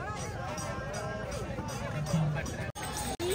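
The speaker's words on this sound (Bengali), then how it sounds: "প্রচুর ভিড়, প্রচুর ভিড়।" Dense crowd murmur and footsteps outside the Jagannath Temple in Puri during a busy morning, a steady mass of overlapping voices close around, with a few brief dropouts near the end.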